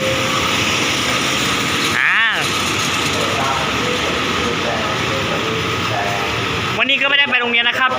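Thai express train 112 rumbles steadily close by with mechanical clatter, a squealing whine rising briefly, then rhythmic clacking and hissing toward the end.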